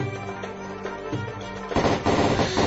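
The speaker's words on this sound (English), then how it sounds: "if you don't have like even laser pistols, it sounds like a regular gun" Gunfire sound effects from ground combat in the strategy game ROTP, a dense burst of rapid shots that grows louder and heavier toward the end.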